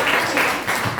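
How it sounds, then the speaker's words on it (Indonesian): Students in a classroom during an Indonesian language lesson clap together briefly, a dense burst of hand claps close by and fairly loud, with no talk over it. "Tepuk tangan dulu untuk pertanyaan sudah."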